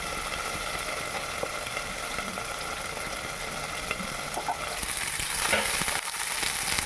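A paste of ground mustard, cashew, green chilli and poppy seed spatters loudly in hot oil in a covered pan, a dense, constant sizzling hiss that swells slightly toward the end.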